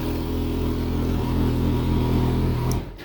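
A 2012 Kawasaki Concours 1400 sport-touring motorcycle idling loud and close, with a steady low rumble for about three seconds before it cuts off abruptly.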